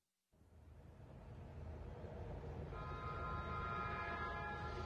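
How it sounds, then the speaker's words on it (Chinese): A cable railway train from an animated film runs steadily and loudly from a sudden start, with a continuous rumbling roar and bright horn-like tones joining in later. No one speaks. "火车缆索"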